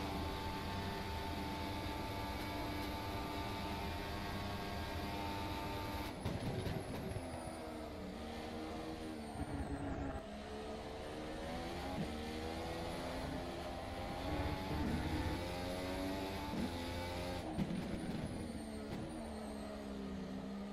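A Formula SimRacing 2018 car in rFactor 2 runs at full throttle toward Eau Rouge at Spa-Francorchamps. The engine gives a continuous high-revving whine with rising pitch sweeps between gear shifts, steady and close throughout.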